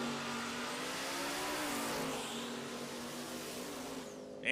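Pro Mod drag race car at Bradenton Motorsports Park blasting down the strip under full acceleration, a loud sustained engine roar with a steady rising tone that fills the whole clip, close and continuous.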